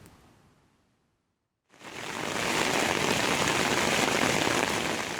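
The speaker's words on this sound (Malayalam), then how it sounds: "കനത്ത മഴയെ തുടർന്ന് രാജ്യത്തിലെ മിക്കയിടങ്ങളിലും വെള്ളത്തിനടിയിലായി" Heavy record rainfall in the UAE comes in abruptly after a near-silent start, then holds as a dense, loud, steady hiss of rain pouring down.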